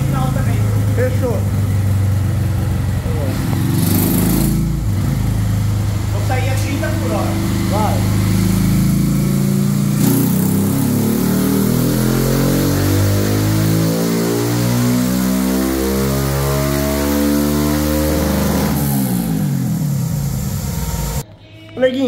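Honda Titan 150 motorcycle with a quiet exhaust and modified camshaft revs hard near the microphone, the engine pitch sweeping upward through a gear and shifting again, with wind rushing throughout.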